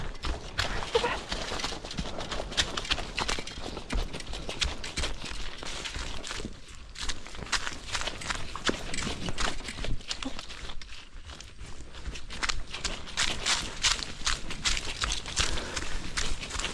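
A horse's hooves clip-clop steadily along as it walks, a continuous moderately loud patter with faint voices in the background.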